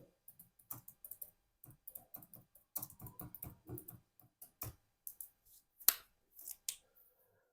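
Someone types on a computer keyboard at close range, producing quiet, crisp key clicks in irregular bursts with short pauses over near silence, no voices.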